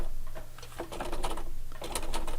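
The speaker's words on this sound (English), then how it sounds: "Okay, here we are at my machine, and I'm going to start sewing" Home sewing machine stitching a 1/4 inch seam on a dog collar, its rapid mechanical ticking running in close bursts with a brief pause partway through, against a low steady motor hum.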